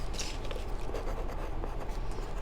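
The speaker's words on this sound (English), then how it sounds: "the first thing we do on here is we write our name" A child's name is written by hand on a paper March calendar, a steady close scratch of pen or pencil on paper continuing throughout at moderate volume.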